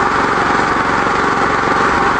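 A 13 HP engine running on a Victory wood gasifier drones loudly and steadily up close, a continuous buzzing mechanical roar with no pauses and no voices over it.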